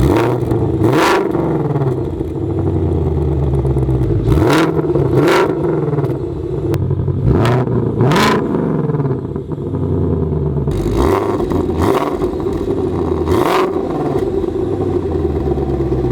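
A 2020 Ford Shelby GT500's loud exhaust rumbles up close on remote start, with repeated sharp revs and crackling bursts over a heavy, steady idle.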